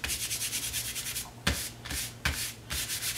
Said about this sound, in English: now I flip it over like this and just give it a rub.